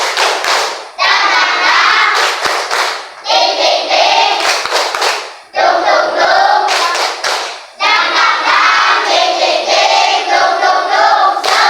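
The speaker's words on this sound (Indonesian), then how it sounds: "Yuk, tepuk semangat." Schoolchildren in a classroom perform a rhythmic spirit clap, loud close bursts of hand claps in patterned groups separated by brief pauses, with voices chanting along.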